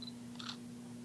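A single quick, faint shutter click from a digital camera over a quiet electrical hum.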